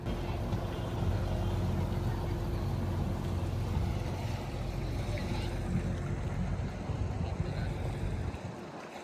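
A loud, continuous motorboat engine drones with heavy wind and water rush, steady throughout, then fades out at the very end.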